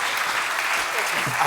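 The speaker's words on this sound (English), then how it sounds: "please give a warm Filipino round of applause, a warm Filipino welcome to Dr." Applause from an audience welcoming a speaker at a talk on student behaviour, a steady dense wash of clapping heard alone at fairly strong level.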